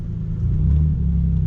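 A 16,000-mile Nissan 300ZX Z31 engine revs in a low, throaty rumble that rises in pitch midway, close and loud, with no one speaking.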